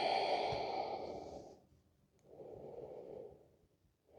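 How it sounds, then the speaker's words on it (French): Slow, audible breaths during a lying-down yoga relaxation, face resting on the hands: a long airy exhale with a soft sighing quality, a pause, then a second breath, close and alone without talk. "On va prendre quelques respirations ici."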